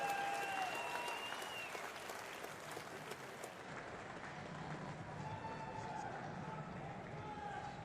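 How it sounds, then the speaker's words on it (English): An audience claps after a lift at a military powerlifting competition, distant crowd applause rising and thinning over several seconds under a hall announcer's voice. "Round of applause, Carlo Novak from Australia."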